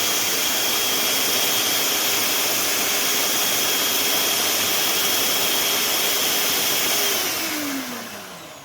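An electric mixer runs at high speed on stollen dough, whirring loud and steady close up, then winds down with falling pitch near the end.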